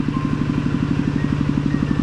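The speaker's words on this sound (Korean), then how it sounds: "오 트랙터 지나간다" Tractor passing along a rural road in a remote Lao village, its engine chugging in a fast, even pulse, fairly close and steady with no voices.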